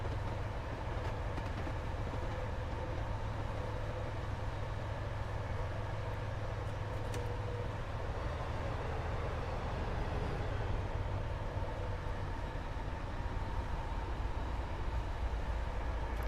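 A Garrett steam locomotive running light engine toward Lakeside in Train Sim World 5: a continuous heavy mechanical rumble with steady low chuffing and rail noise, alone and without talk.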